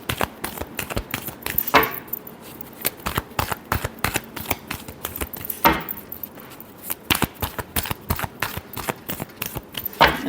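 Tarot cards shuffled by hand in a steady, crisp riffling patter, close and fairly loud, with a few slightly heavier slaps along the way and no speech.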